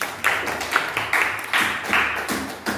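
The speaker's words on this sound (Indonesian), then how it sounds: "Oke, tepuk tangan dulu." A Grade 7 junior high class claps together in a rhythmic burst, a run of sharp, closely spaced claps filling the room.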